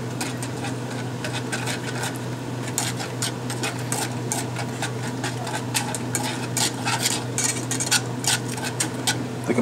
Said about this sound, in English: Whisk the damn shiz